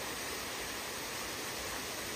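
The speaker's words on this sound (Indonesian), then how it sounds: "Dia tuh kayak mengalirnya tuh kayak air terjun gitu loh." A mountain stream on the Latimojong trail in Indonesia pours like a small waterfall, giving a dense, steady rushing hiss that fills the whole moment, close and loud with no voices.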